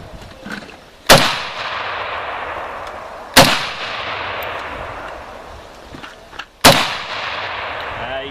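Three loud, sharp gunshots from a Century Arms C308 Sporter rifle at an outdoor range, spaced about two to three seconds apart, each with a ringing decay and faint background noise between.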